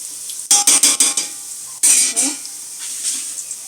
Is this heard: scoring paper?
no